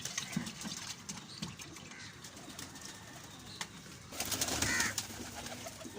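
Pigeons gather around a water dish, cooing softly under continuous rustling and scuffling, and a louder burst of wing flapping comes near the end.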